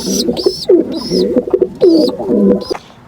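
A female pigeon coos repeatedly up close while feeding young, soft throaty calls in a steady rhythm, with a few higher squeaky notes between them.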